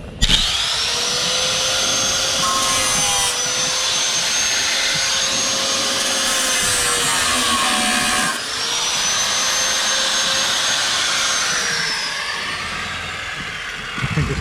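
A power cutting tool grinding through a rusty body panel on a Ford Sierra, a steady loud high whine with a brief dip in the middle, sustained close-up for the full length.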